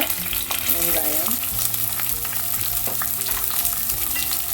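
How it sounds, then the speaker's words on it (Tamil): Onions sautéing in a clay pot for a tuna fish curry with curry leaves, a steady close sizzle and crackle of frying with scraping stirs throughout and no talking. "வெங்காயம் வதங்குறதுக்கு கொஞ்சமாக உப்பு போட்டு நல்லா இருக்கா கலந்து நல்லா பொன்னிறமாக வதங்க விடுவோம்"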